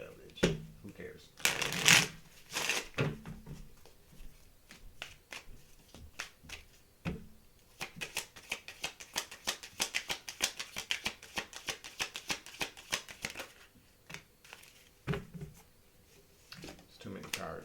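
A deck of tarot cards being shuffled close up, crisp riffling and flicking bursts repeating in quick runs, with a voice speaking softly over parts of it.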